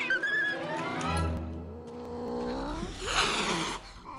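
An aggressive cat yowls in a rising, wavering cry lasting a few seconds, fairly close and loud, with a low rumble and other noise beneath.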